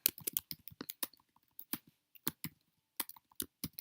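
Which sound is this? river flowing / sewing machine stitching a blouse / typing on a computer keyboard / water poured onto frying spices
typing on a computer keyboard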